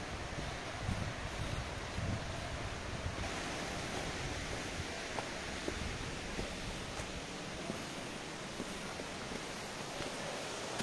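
Roar of Machakandana waterfall in Mayurbhanj: a steady, dense rushing wash of falling water that fills the whole stretch without a break, with no voices on top.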